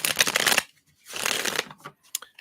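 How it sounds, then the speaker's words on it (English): A deck of tarot cards being shuffled by hand at close range: two dense, crisp riffling bursts separated by a brief pause, followed by a few light taps and flicks. "Well, they want me to shuffle again."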